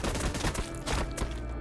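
Cannon fire tearing into Space Marines in the Warhammer 40,000: Battlesector strategy game, a dense, loud run of overlapping blasts and crackling impacts that barely lets up.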